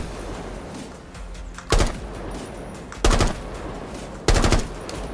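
Full-auto gunfire from an SAS operator's rifle in Rainbow Six Siege, coming as three short, loud bursts spaced about a second and a half apart over quiet background game ambience.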